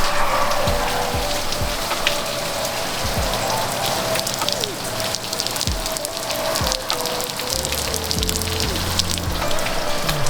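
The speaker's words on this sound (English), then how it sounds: "it started absolutely pouring." Heavy rain pouring outdoors, a dense, loud and continuous hiss of drops striking surfaces, steady for the whole stretch with occasional louder splashes close by.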